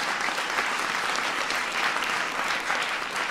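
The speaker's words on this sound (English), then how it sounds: "Give John a big round of applause" Steady, dense audience applause at a presidential press conference, an even wash of clapping from a large crowd that holds at a consistent level throughout.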